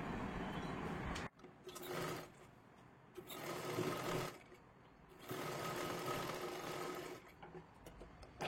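A sewing machine stitching a katori blouse runs in several short bursts of rapid, steady whirring, separated by brief quiet pauses, close and fairly soft with no talking over it.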